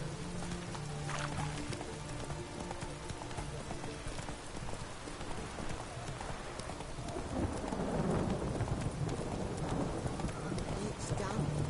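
Steady rainfall with low rumbling thunder swelling in the latter half, inside The Witcher 3, with faint hoofbeats and a voice talking over the downpour.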